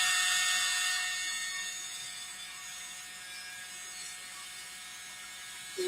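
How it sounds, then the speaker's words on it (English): A small mini leaf blower pushes wet acrylic pour paint across a surface, its motor giving a thin, steady high whine that eases slightly after the start, close by with no talking. "that's gigantic compared to my little mini leaf blower. So I'm going to use this to blow the paint down."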